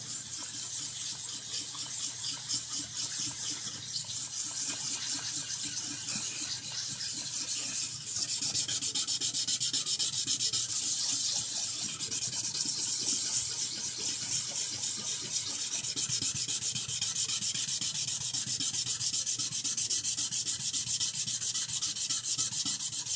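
Sandpaper scrubs a burnt-on stainless steel pot with a little water, producing a continuous close rasping scrape with a wet hiss that grows slightly stronger partway through.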